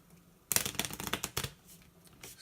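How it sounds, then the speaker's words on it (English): A quick riffle shuffle of a deck of game cards during a solo tabletop card game: one sharp burst of flicking cards, then a few softer shuffling rustles, close and clear with no voices. "so I got to shuffle quickly here"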